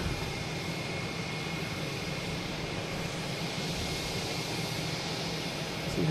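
A British Airways Airbus A350-900 jet lined up on runway 15 right at Boston Logan Airport produces a steady, broad engine roar that holds at a constant level throughout, with no talk.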